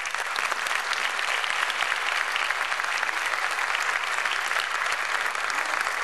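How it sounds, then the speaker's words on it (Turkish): A concert audience applauds choir members of a Turkish folk music chorus, dense, even clapping from a large crowd that holds at a steady loud level throughout. "tabii ki alkışlarınızla."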